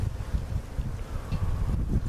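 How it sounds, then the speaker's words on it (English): Gusty outdoor wind buffets the microphone in low, uneven rumbling bursts, rising and falling in strength throughout with a faint rustle above. "It's windy as hell today."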